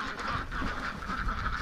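Wintering ducks quack together in a steady, overlapping chorus nearby, with a few honking tones mixed in.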